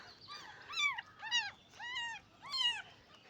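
Newborn kittens whose eyes are not yet open give a series of four thin, high, wavering mewing cries, close by and fairly loud, spaced in a steady pleading rhythm.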